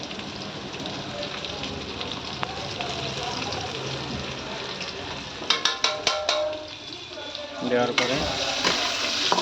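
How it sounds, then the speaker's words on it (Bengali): Capsicum frying with cumin and coriander powder for chilli chicken, a steady hissing sizzle like rain, with a cluster of sharp clinks from stirring and a brief spoken phrase over it. "আর এদিকে সেই ক্যাপসিকাম হচ্ছে ফ্রাই করা হচ্ছে"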